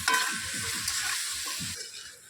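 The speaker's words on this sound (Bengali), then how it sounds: "আলুটা একটু সব কিছুর সঙ্গে ভালো করে নাড়াচাড়া করে মিশিয়ে নেব" Potato pieces with their skins still on are stir-fried in a pan, giving a brief close sizzle broken by quick stirring and scraping strokes.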